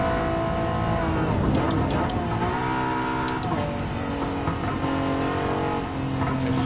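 A Volkswagen GTI races in Gran Turismo 7, its engine droning and revving continuously at close range, with pitch shifts through gear changes and a few sharp clicks.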